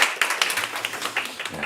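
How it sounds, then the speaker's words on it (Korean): Audience applause after a history lecture at a Seoul talk show, a short burst of clapping with a few sharp claps standing out, as a voice speaks briefly over it. "여러분 다시 한번 큰 박수 한번 부탁드리겠습니다"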